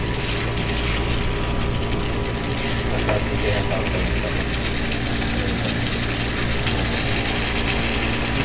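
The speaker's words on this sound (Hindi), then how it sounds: "अब हमारी ग्रीन चिली फ्राई हो चुकी" Green chilies fry in a pan for palak paneer, giving a steady, dense sizzle that runs unbroken throughout at close range, with faint clinks and stirring noises mixed in.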